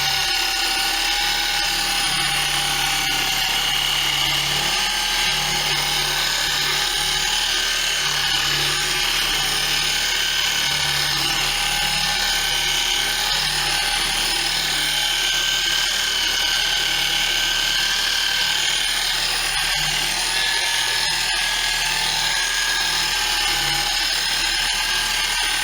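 A cheap Guild dual action polisher buffs a slight scratch out of a car panel, giving a loud, steady high-pitched whine that runs on continuously with no talking.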